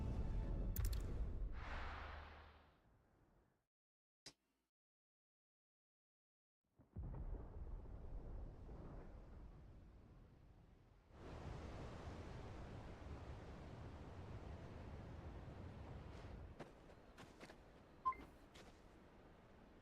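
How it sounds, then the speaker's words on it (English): Rolling thunder in Final Fantasy XVI rumbles in the distance: a long, low, noisy roll that swells and lingers for several seconds after brief sounds and a silent gap, with faint clicks near the end. "Sounds like thunder."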